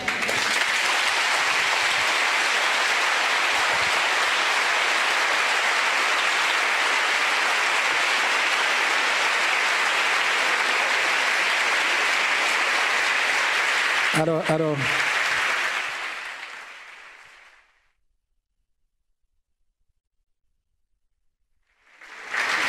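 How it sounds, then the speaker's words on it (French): Sustained applause from a church congregation fills the space for about fifteen seconds, loud and dense, then fades out into near silence before a voice begins to speak. "j'espère, et sincèrement j'espère, que c'est pas moi que vous applaudissez"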